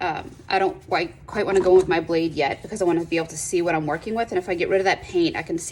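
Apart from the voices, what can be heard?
No everyday noises stand out.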